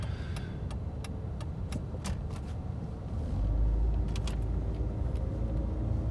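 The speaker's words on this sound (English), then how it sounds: "there's a lot of traffic right here" Steady road traffic rumbling past in a busy street, a continuous broad wash of vehicle noise that swells louder midway as a nearer car goes by, with scattered faint clicks and no talking.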